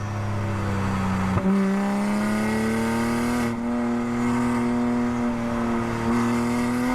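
A Toyota Supra drives a lap at Ridge Motorsports Park, its engine droning steadily close up with a rising pitch, a brief jolt near the start, and a smooth sustained tone that climbs gradually through the run.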